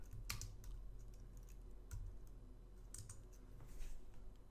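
Someone types a command at a computer keyboard in a Linux bash terminal, producing a quiet, irregular run of close key clicks with brief pauses between keystrokes.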